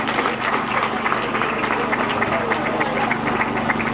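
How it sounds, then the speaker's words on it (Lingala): An audience at a school ceremony applauds steadily and densely throughout. The clapping is continuous and even, with a low hum underneath. "Applaudissez."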